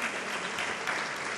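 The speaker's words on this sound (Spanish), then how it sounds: "Es otro aplauso, ahí pídolo yo." Audience applause at a folk music concert, a dense, even burst of clapping from a crowd that keeps up steadily for the whole moment.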